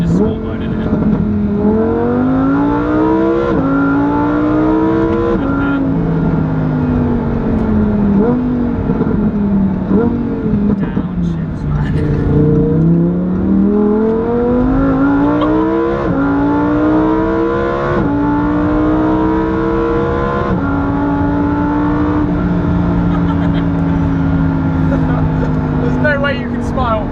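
A Lamborghini Huracan Performante in sport mode revs hard through repeated gear pulls, the loud engine note climbing and dropping with each shift, continuous and close from inside the car, with voices speaking over it.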